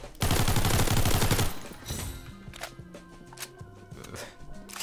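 Unsuppressed MAC-10 firing in the Roblox game Criminality, one loud rapid burst of shots at the start, then quieter footsteps and scattered game sounds with a melodic tone underneath.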